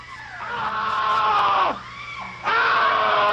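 A television production-room crew screams together in loud, sustained, wavering cries that briefly drop off and then surge back, with no talking over them.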